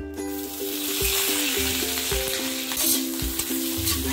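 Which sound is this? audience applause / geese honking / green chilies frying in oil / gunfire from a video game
green chilies frying in oil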